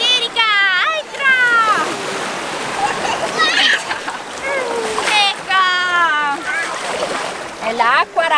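Seawater splashes and small waves wash around as people wade into the sea on a first beach day, close and lively, under nearly constant excited talking by an adult and a child.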